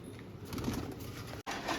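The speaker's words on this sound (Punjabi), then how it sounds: "ਚਲੋ ਬਈ ਆਹ ਕਬੂਤਰਾਂ ਨੂੰ ਵੀ ਦਾਣਾ ਪਾਣੀ ਪਾ ਦਈਏ" Pigeons coo softly and close by, with a low murmuring call rising and falling under light background noise and a brief gap near the end.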